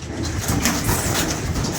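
Released pigeons give soft, low cooing and a fluttering rustle of wings, fairly close and steady over a brief stretch with a faint engine hum beneath.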